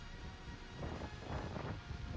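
Wind noise buffets the microphone during a run into a headwind after rain, a steady loud rushing roar with gusty swells and no speech.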